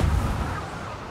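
Cannon fire in the pirate video game Sea of Thieves: a loud, low booming rumble that opens the moment and then decays into a dull roar without a second shot.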